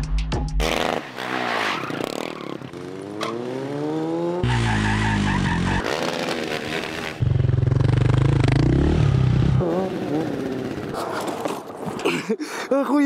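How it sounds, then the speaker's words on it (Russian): A quad bike engine roars and whines through a sharp shuffle turnaround trick, loud and close, with rising and falling pitch sweeps, clatter and skidding, and voices shouting over it. "это мой любимый квадроцикл, и сейчас я вам немножко расскажу о трюке VIP"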